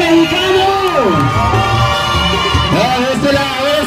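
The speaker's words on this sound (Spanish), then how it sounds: "que se escuche el grito mexicano." Parade crowd at a Mexican Independence parade in Chicago's Little Village, cheering loudly with whoops and swooping shouts of the Mexican grito rising above a dense roar of voices.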